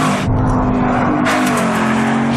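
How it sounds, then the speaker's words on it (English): A Ford Mustang Boss 302 with a 5-litre V8 revs hard and loud, a close, rising engine roar that dips briefly and then surges again over a couple of seconds, with nothing else heard. "Or the race-ready Boss 302, with a 5-litre V8 you can take to the racetrack."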